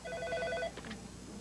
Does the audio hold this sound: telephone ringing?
yes